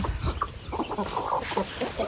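Several chickens cluck and murmur close by in short, overlapping bursts.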